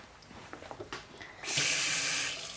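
Tap water running into a kitchen sink for hand washing, starting with scattered splashes and clinks, then a loud steady gush that keeps going to the end.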